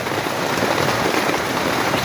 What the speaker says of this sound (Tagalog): sobrang lakas talaga ng ulan